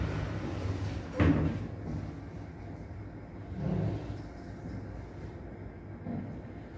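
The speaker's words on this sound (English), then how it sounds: "The front door is opening." The front door of a Hyundai traction service elevator slides open in a mall, one sharp clunk followed by a low rumbling slide and a softer thud, close and clear over steady machine hum.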